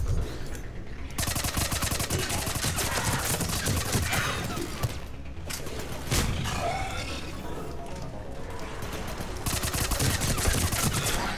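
A Tempest submachine gun fires in Mass Effect 3 in long loud bursts with brief pauses near one and five seconds, mixed with game roars and explosions.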